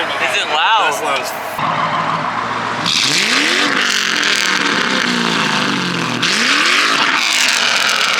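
A Ford Mustang with a 3V engine and a pop corn tune revs hard several times, loud and close, each rev rising and falling in sharp sweeps with crackling pops between them, while people talk nearby.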